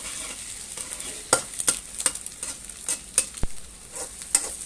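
A spatula stir-frying pickled mustard greens with egg in a hot pan: steady sizzling under scattered sharp scrapes and taps of the utensil against the pan, close and moderately loud, no talk.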